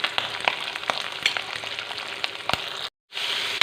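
Coconut pieces fry in hot oil for a Kerala-style chicken curry, giving a bright, steady sizzle with small crackles and pops, close and alone, briefly cutting out before resuming.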